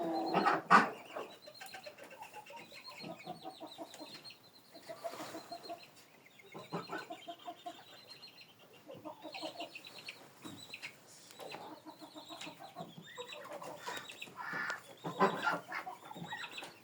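A young bearded black rooster in a farmyard gives repeated clucks and short throaty calls in uneven bursts, fairly faint and near, with other fowl sounds scattered around.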